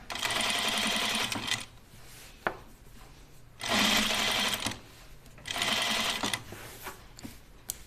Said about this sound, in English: I sewed my sleeve on wrong sides together with a slightly generous 1/2 inch seam allowance.